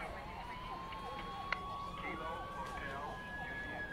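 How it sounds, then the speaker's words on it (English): Police sirens in the video game Summerland wail in a steady rising and falling tone, moderately distant and layered over a constant background bed, with a single brief click partway through. "God, I hate the sound of sirens."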